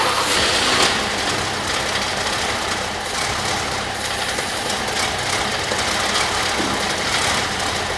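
A Mercedes-Benz 280S engine with starting problems runs steadily nearby, a loud, rough, continuous mechanical roar with no speech.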